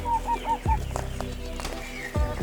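Backyard chickens clucking and murmuring close by, a few short repeated calls followed by soft chatter and a couple of sharp clucks, no voices.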